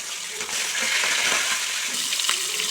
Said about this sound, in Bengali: কড়াই দিয়ে দিচ্ছি। অল্প অল্প করে মাথা ভেজে নেব